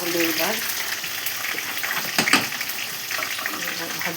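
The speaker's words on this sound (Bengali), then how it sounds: "এদিকে আলু আর পেঁয়াজ ভাজা হচ্ছে" Potatoes and onions frying in a pan while a mutton curry is cooked, a soft continuous sizzle with occasional stirring scrapes and a louder clatter midway, fairly close.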